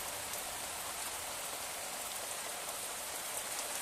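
Heavy unseasonal rain pours down in the Konkan countryside, a dense, steady hiss of rainfall on surfaces that stays constant throughout, with no distinct thunder audible.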